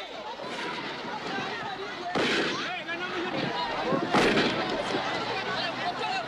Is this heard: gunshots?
yes